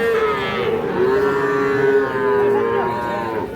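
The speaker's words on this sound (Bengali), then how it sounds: "শাহিওয়াল ষাঁড় বাচ্চা" A 3–4 month old Sahiwal bull calf at the Ambari cattle market lets out one long, loud, close moo that holds and wavers for several seconds against a faint market background.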